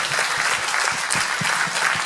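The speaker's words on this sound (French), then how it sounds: "vous pouvez les applaudir" An audience claps at a children's school concert, a dense, loud burst of applause that holds steady throughout with no voices over it.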